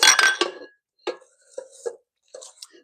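A spatula scrapes and clinks against a mixing bowl of creamed butter and egg for tart dough, with a loud first burst of scraping followed by several short, separate scrapes and taps.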